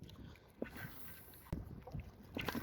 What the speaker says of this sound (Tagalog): Uy, medyo may hangin ngayon mga idol ah.